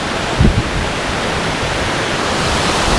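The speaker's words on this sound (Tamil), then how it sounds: "இங்கே நம்ம குளிக்கிற மாதிரி இருக்குது. சாரல் அப்படி அடிக்குது." Steady broadband roar of spray from Agaya Gangai Falls in the Kolli Hills, loud and close, with a brief low thump near the start and no talking.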